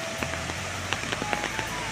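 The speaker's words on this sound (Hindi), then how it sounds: "रेन वैसे ही है, बारिश वैसे ही है और ज़ोर से आ रहा है" Heavy monsoon rain in Sikkim, India, a dense steady hiss close by, with scattered drops and taps landing on nearby surfaces.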